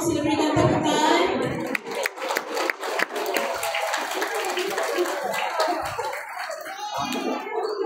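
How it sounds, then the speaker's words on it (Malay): Audience applause breaks out at an elephant show at Kuala Gandah, with bursts of close hand clapping and crowd noise mixed with a person talking. "Sila berikan tepukan."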